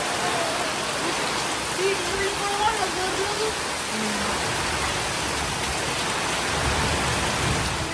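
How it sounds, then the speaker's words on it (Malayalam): Heavy rain pours steadily as a dense, even hiss that fills the whole stretch. Faint tonal sounds drift through the middle, and low rumbles build near the end. "നല്ല മഴ, ഭയങ്കര സൂപ്പർ മഴ."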